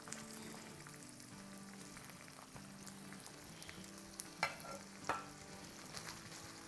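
Masala stirred into onions and roasted in a pan for Gujarati onion sabzi (salan): a faint, steady low sizzle with a few soft spoon scrapes and clicks near the end.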